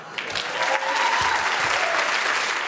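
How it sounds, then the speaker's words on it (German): A comedy club audience applauds after a stand-up set, with steady, dense clapping that holds at an even level throughout, a few voices and a laugh mixed faintly into the crowd. "Großer Applaus"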